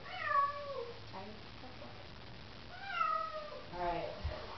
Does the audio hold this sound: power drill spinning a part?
no